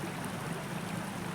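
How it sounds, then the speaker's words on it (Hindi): Babbling water of a small stream flowing steadily nearby, a continuous close rushing and gurgling with no voices over it. "ये देखो जो पानी की कलकल की आवाज़ आ रही है"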